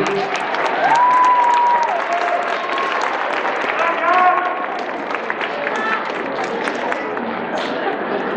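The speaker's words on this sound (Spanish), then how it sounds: "El aplauso a los abuelitos que están aquí" A school audience applauds the grandparents at a student band concert: continuous crowd clapping, fairly loud, with a whistle-like tone and some voices rising over it before the clapping thins out.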